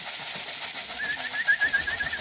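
A homing pigeon coos softly and repeatedly in a wavering rhythm inside a pigeon loft, over a steady hiss of background noise.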